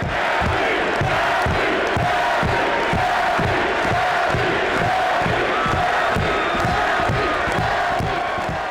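A large arena crowd at a combat sports event cheers and chants loudly and continuously, with rhythmic pulsing shouts rising and falling throughout, no single voice standing out.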